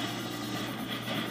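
Helicopter in the Split/Second racing video game, a steady broadband rotor and engine drone holding at constant loudness throughout.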